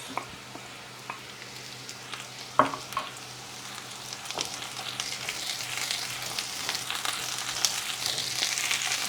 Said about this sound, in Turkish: Patateslerimiz kızardı. Soğanlarımızı ekliyoruz.